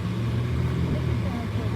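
A car drives along a road on the way to school, giving a steady low engine and road rumble heard from inside the cabin throughout.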